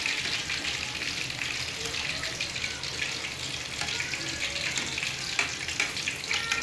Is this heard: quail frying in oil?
yes